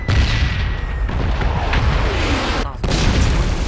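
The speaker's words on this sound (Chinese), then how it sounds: "我现在贼怕这轰炸区" Bombing-zone blasts in the battle royale game PUBG rumble as a continuous low booming barrage with dense crackling explosions, loud throughout and broken by a brief dip near the end, while players talk over it.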